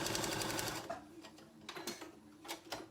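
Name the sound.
sewing machine stitching quilt foundation paper piece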